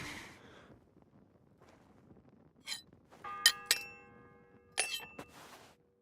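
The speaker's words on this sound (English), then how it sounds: "The first bell." A bell in the medieval game Kingdom Come Deliverance II is struck a few times, ringing metallic clangs with sustained tones over a quiet, faintly windy background.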